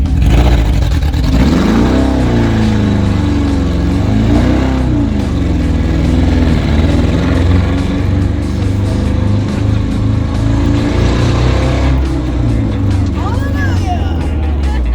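A Lemons race car with a fresh roll cage runs laps, its engine revving up and down loudly and close throughout, with voices talking over the drone.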